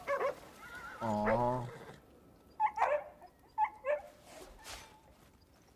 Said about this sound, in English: The cutest little boarhound puppy I've ever seen.